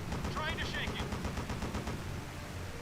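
Rapid machine-gun fire from a World War II fighter plane in Blazing Angels, a dense stream of close, even bursts over a steady engine drone, with a voice briefly heard over it.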